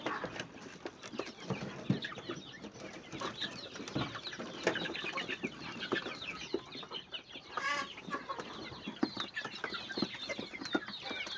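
Domestic chickens clucking steadily in a coop, many overlapping calls and scratchy movements close by at moderate level, with no talk.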